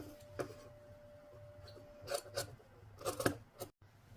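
Scissors cut through dupatta fabric for a kurti button band, heard as a few quiet, close snips and crisp cutting strokes over a faint hum in an otherwise quiet room.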